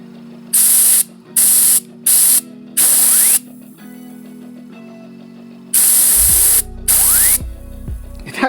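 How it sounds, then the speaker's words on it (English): Several loud bursts of compressed air spin a Suzuki GSXR Factory Pro slick shift kit, each hiss lasting under a second, with a whirring spin fading out between blasts and two longer bursts near the end. "how super quick and how smoothly this actually spins by using compressed air"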